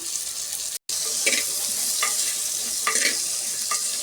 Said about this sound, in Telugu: ఇప్పుడు ఇందులోకి ఉడకబెట్టిన శనగల్ని వేసేద్దాం